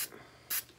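Two quick hissing bursts from an aerosol spray can aimed into a skull art piece, one at the start and a stronger one midway, close up over a faint background hum.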